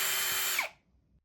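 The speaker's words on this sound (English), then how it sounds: "take your 1/8" drill bit, and you're going to just drill directly through the hole" Power drill fitted with a 1/8" bit boring through the hole of a Tamer fork guard bracket on a Yamaha YZ450F, a short loud high whine that cuts off abruptly into quiet.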